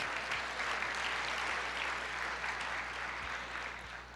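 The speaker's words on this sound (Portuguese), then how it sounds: "Você pode aplaudir e dizer: eu creio, eu recebo em nome de Jesus" A church congregation applauds together in a steady, sustained wash of clapping that fills the room, holding evenly and easing slightly toward the end, with no speech over it.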